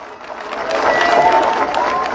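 A crowd at an outdoor political campaign rally breaks into applause and cheering in the cold, a broad wash of clapping that swells and holds. A speaker's voice carries over it through a loudspeaker.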